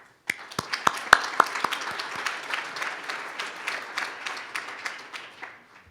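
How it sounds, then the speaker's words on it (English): An audience at an Ohio State University celebration breaks into applause, starting with a few sharp close claps that build into steady clapping and then fade out. "Please join me in applause to thank the senior administrator leadership for joining us in the celebration today."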